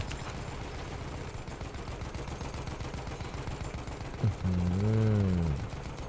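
Battlefield 1 gunfire on the Death Railway map, a dense steady stream of shots filling the whole stretch, joined near the end by a brief louder tonal burst laid over the shooting.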